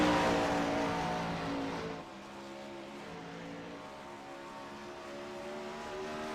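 A 410 winged sprint car, number 001, runs a flying qualifying lap around the middle groove at Knoxville. Its engine gives a loud, steady, droning roar that eases slightly after a couple of seconds and then holds.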